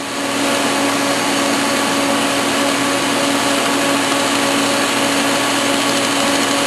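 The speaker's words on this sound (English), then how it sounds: "This is a high-speed welding application running at a very high hertz rate." A LaserStar 150-watt laser welder runs high-speed bead welding with filler wire, giving a loud, steady, unbroken buzzing hum with faint tonal lines throughout.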